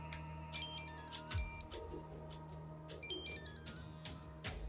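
A phone ringtone plays a bright, repeating electronic melody in two short phrases over a faint low hum.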